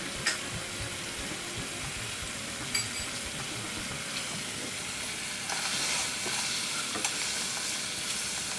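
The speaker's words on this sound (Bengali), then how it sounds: "মাংসের সঙ্গে কিন্তু মশলাও ফ্রাই হবে ভালো করে।" Mutton frying with ginger garlic paste on high flame, a steady loud close sizzle with scattered crackles and utensil knocks, the hiss swelling briefly toward the end as it is stirred.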